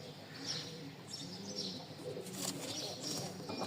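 Pigeons of Pakistani and Kaka breeds coo softly in a loft, with a few chirps amid steady background noise.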